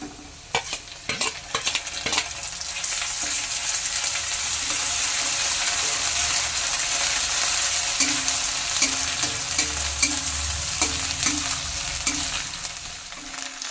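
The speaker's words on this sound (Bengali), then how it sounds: "এবারে দিয়ে দেবো আদা রসুন বাটা" Ginger garlic paste hits golden fried onions in a pan, starting with a few sharp scraping clinks of the spatula, then settling into a loud, continuous close-up sizzle with occasional stirring taps.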